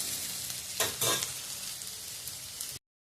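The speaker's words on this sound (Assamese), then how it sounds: "অলপ ৰঙচুৱা কৰি এনেদৰে ভাজি ল'ম" Potatoes frying in oil until reddish, a continuous close sizzle with a couple of louder stirring scrapes, cutting off abruptly into silence near the end.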